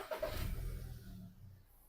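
A 2008 Volkswagen Touran engine turns over and settles into a steady idle, with a low rumble that starts strong and eases slightly over a couple of seconds, heard close up with no talking.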